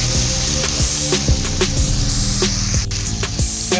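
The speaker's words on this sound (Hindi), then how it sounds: "अभी हम इसके अंदर लहसुन और अदरक का ये पेस्ट ये ऐड कर देंगे" Garlic and ginger paste sizzles in a hot pan for a Pota Bhindi recipe. The fizzing crackle is close and continuous, with scattered sharp clicks and pops.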